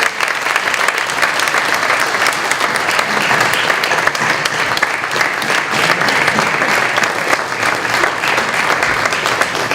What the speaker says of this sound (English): thank your faculty and your families with a warm round of applause